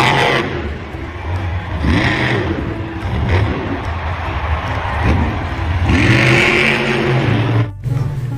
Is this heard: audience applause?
no